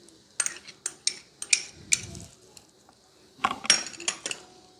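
A spoon clinks and scrapes against a bowl, mixing fruit chaat with tamarind pulp, a series of sharp metallic taps in uneven bursts with brief pauses between.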